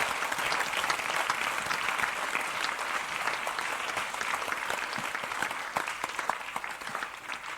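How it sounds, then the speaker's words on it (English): Conference audience at a closing research conference gives a continuous round of applause, dense and even, with a few sharper individual claps standing out. "we can give you a clap for this assistance during the conference."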